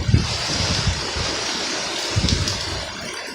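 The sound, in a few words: strong hurricane wind blowing through trees (Hurricane Irma)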